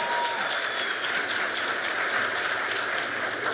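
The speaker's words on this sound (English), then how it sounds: "give yourselves and our students that are going to perform a big round of applause" Audience applauding at a school winter concert: steady, dense clapping from a full room, continuous and fairly even throughout.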